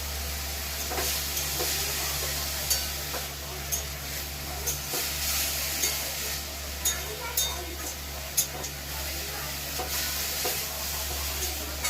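Red amaranth greens frying with turmeric and dried chilli, a continuous hissing sizzle under a low hum, with intermittent stirring clatter from the pan, close and fairly loud, no speech.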